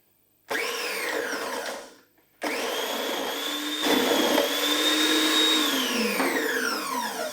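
A food processor slicing potatoes whirs to life with a high motor whine, cuts out briefly, then runs steadily again, chopping through its load with a rising, strained pitch.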